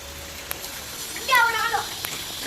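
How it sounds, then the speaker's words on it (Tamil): Steady rain falls outdoors, a soft continuous hiss with a few drips, while a voice briefly speaks over it partway through. "காலையிலேருந்து விடாத மழை."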